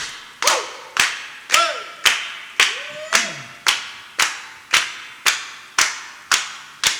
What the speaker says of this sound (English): Clap your hands at home with us.